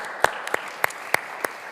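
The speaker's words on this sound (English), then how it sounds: "we'll give them a round of applause" A small audience at an evening poetry reading claps for the readers: a handful of sharp, evenly spaced claps, about five in under two seconds, close and distinct rather than a continuous roar.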